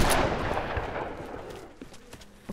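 A loud gunshot in Tomb Raider fired to blast something open, its sharp report rolling into a long fading echo, followed by a few faint clatters and no speech.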